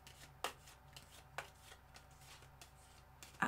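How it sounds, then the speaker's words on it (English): Soft riffling and flicking of tarot cards being shuffled, in quiet intermittent bursts with a few sharper snaps. "that's a good shuffle"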